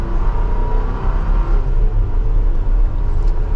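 A 2024 Chevrolet Traverse LT in sport mode accelerating, its engine a steady loud rumbling whir heard from inside the cabin with no talking.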